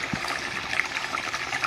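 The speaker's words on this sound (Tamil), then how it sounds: "இந்த டயத்தில் கொஞ்சோன்னு 1 சிட்டிகை புளி ஊற்றிக்கோங்க." Tamarind water trickles steadily into a simmering egg kuzhambu, a soft continuous pouring splash with faint bubbling, close and alone.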